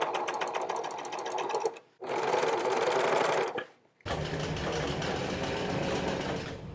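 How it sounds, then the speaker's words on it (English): A sewing machine stitches couch-upholstery fabric bomber jacket panels together at the shoulder, running loud and steady in three bursts separated by brief pauses, with no speech over it. "now the back piece and the two front panels can be stitched along the"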